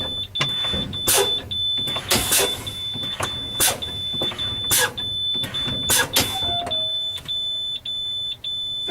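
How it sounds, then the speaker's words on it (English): A truck's service brake pumped over and over during an air brake inspection, each press releasing a loud, sharp burst of air in an irregular rhythm over a steady high-pitched warning buzzer, with engine rumble beneath and no talking. "I'm gonna keep fanning my brake, my service brake, until both of my valves pop out."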